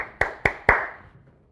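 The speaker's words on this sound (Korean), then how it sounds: "박수!" In a police-law lecture, three sharp hand claps ring out evenly spaced and close, with the reverberation fading into quiet after the last one.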